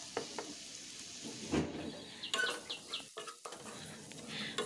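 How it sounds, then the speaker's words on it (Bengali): Eggplant being stirred into a spice paste frying in oil for an eggplant bharta, with a soft sizzle and intermittent scraping stir strokes, close and fairly quiet, no talk. "দিয়ে দিলাম বেগুনটাকে। বেগুনটা দেওয়ার পরেও এটা ভালো করে একটু মিশিয়ে নাড়াচাড়া করে মিশিয়ে নেব।"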